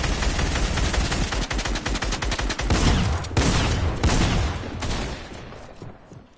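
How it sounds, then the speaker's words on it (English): Rapid, dense gunfire from a Fortnite match, with bursts of shots crackling almost without pause before thinning out toward the end. "He's shooting me."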